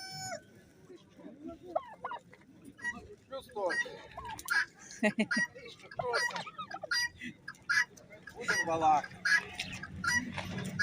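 Hens, muscovy ducks and turkeys at a poultry sale and livestock show in Lyubar in 2024 cluck and call in scattered bursts, fairly quiet, while people talk over them.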